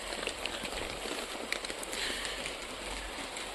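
Heavy rain falling on a small vegetable garden in April, a dense steady hiss of drops with scattered crackles, continuous and fairly close with no speech.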